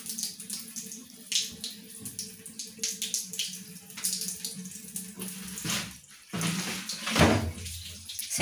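A faucet runs steadily, close and fairly loud, with a brief dip about two-thirds of the way through, as someone washes their face at a sink.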